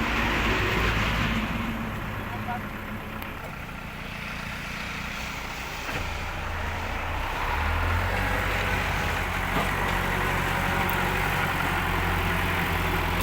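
A Kubota M5000 tractor with its original engine and gearbox idles steadily, giving a continuous low diesel rumble that stays loud and close and holds even throughout, with no voices over it.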